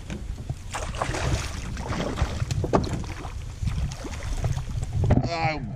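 A fishing boat on a tucunaré trip being moved back, with steady water and hull wash, splashes and wind buffeting the microphone throughout, ending in a short burst of voice.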